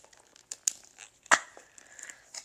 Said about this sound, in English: I'm going to have to rip it open.